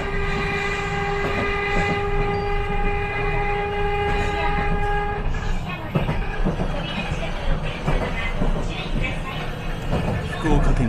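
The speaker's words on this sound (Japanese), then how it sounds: "電車は筑豊の尾形に向けてけたたましい音を上げて進んでいきます" A Chikuho Electric Railway train runs loudly and steadily, giving a long horn blast over continuous rumbling and rattling, with faint voices underneath.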